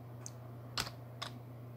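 A few quiet keystrokes on a computer keyboard while typing a file name in Excel 2019, three soft separate clicks over a steady low hum.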